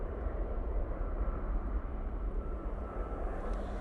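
A TUI Dreamliner arriving in London passes by as a steady, moderately distant rumbling engine drone, with no talk.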